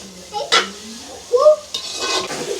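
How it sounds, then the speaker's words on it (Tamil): A vegetable mixture, cabbage among it, sautés in a pan with a spatula scraping and stirring, producing several distinct clinks and scrapes over a low sizzle, fairly close and loud, with no one talking. "இதெல்லாம் சேர்ந்து நல்லா வதங்கட்டுக்குங்க"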